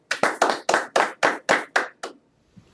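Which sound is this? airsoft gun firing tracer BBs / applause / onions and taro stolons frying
applause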